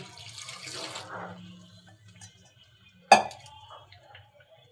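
Water poured into a cooking pot of palak spinach for Karnataka-style dal, about half a litre, rushes steadily for a second or so, then a single sharp metallic clink rings out against an otherwise quiet kitchen.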